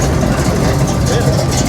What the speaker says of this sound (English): Sure, that's 58 Impala that's rolling in